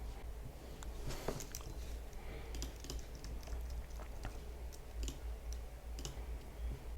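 Scattered, light clicks from a computer mouse and keyboard tap out irregularly during Android programming work, faint and close over a low steady hum.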